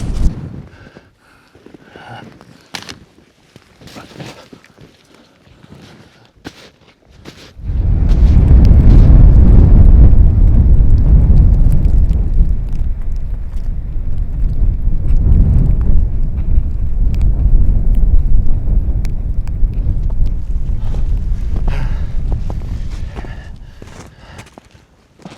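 Strong blizzard wind roars beside a mountain lake, first gusting and then settling into a loud, steady rush against the microphone, with faint crunching steps early on.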